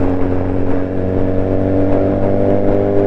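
A BMW motorcycle cruises along ordinary roads on a cool day, its engine a steady, continuous drone with a low hum and faint revving, loud and close throughout with no talking.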